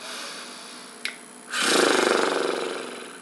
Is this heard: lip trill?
yes